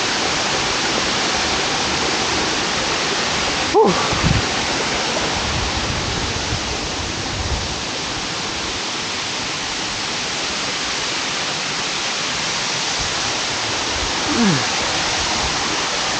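A steady, broadband rush of falling water from Nalagana Ella waterfall in Sri Lanka continues throughout, with a brief faint voice near the start and another soft sound late.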